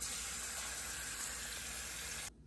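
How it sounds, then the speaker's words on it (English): Cold tap water pours steadily into a saucepan of cut potatoes, a close, even rushing fill that cuts off abruptly near the end, with no voices. "Put them in a saucepan first of all, and fill the pan with cold water."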